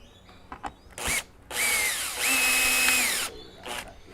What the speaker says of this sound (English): simply screw it into place in the pre-drill location